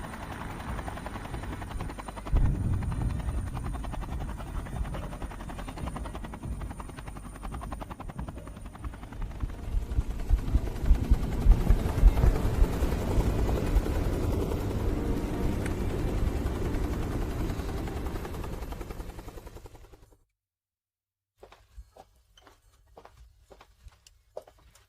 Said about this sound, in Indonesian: Jadi dia pergi naik helikopter.